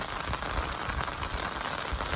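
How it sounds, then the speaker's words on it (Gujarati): Heavy rain pours steadily at a village farmhouse, blown by wind, a dense continuous hiss of drops drumming on surfaces with no pauses and no voices. "જો કેવો વરસાદ આવે છે"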